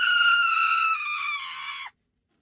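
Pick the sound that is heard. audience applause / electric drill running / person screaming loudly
person screaming loudly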